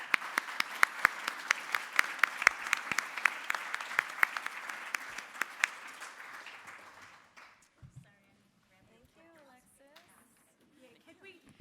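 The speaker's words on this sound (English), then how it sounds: "please join me in giving our panelists a hand this morning" An audience applauds panelists at a morning panel event, a dense wash of clapping hands with crisp individual claps standing out, fading out after about seven seconds into faint murmuring.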